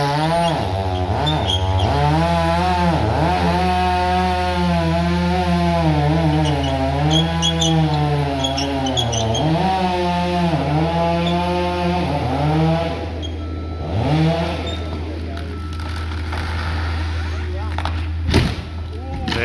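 A chainsaw felling a section of tree during a beehive relocation, its engine droning loud and close with rising and falling revs throughout, then cutting out near the end, with voices heard faintly under it.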